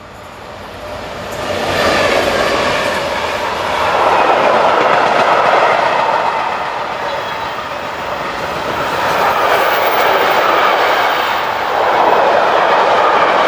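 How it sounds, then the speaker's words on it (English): A diesel-hauled freight train rolls past nearby with a heavy rumble and rhythmic wheel clatter that swells and ebbs as the wagons go by. "Class 66 diesels were surprisingly common, with around a quarter of the freight trains seen hauled by one"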